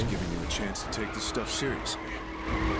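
Tires squeal and skid in a handbrake drift in the racing video game The Crew, a rough screech rising over the engine hum while someone talks excitedly throughout.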